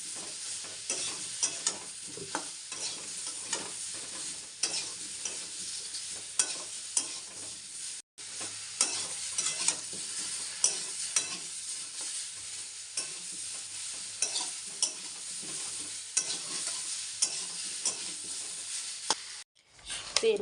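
Turmeric is stirred into fish curry frying in a pan, with a soft, constant sizzle under frequent scraping spatula strokes, fairly quiet and close, with a brief pause midway and near the end.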